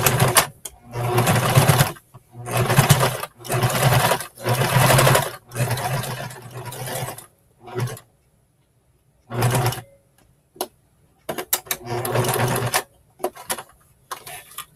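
A sewing machine stitching along the seam allowance of a pocket flap, running in close, loud bursts of one to two seconds with short stops between, some stretches stuttering in brief spurts.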